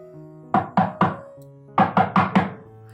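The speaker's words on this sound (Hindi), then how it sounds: "इतने में उस साहब ने दरवाजा खटखटाया।" Knocking on a wooden door in a Hindi audio story: two groups of sharp close raps, three then four in quick succession, each with a short hollow ring, over a faint sustained musical tone.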